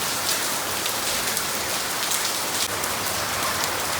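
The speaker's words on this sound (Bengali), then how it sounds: "এখানে প্রচুর পানি পড়তেছে বৃষ্টিতে" Heavy rain falling in Dhaka, a dense, loud, unbroken downpour hissing and splashing on surfaces close by, with no voices.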